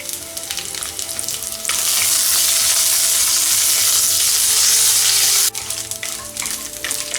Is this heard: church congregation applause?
no